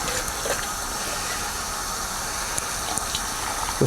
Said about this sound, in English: So we're gonna get some hot water with my sanitized green hose, okay? I'm just gonna fill that up